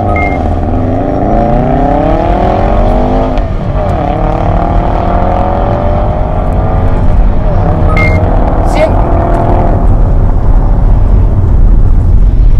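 A Subaru WRX STI with a 310-horsepower engine drives at speed, its engine note rising and falling through gear changes as a steady, loud drone that runs throughout, with faint talk over it.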